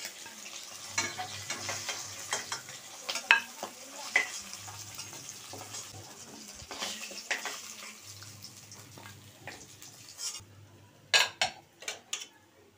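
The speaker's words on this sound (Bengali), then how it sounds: "বাদবাকি মাছগুলো ভেজে নিচ্ছি।" Pieces of fish fry in mustard oil in a pan for a Bengali fish curry, a soft sizzle beneath frequent clinks and scrapes of a spatula turning the pieces, with no voices.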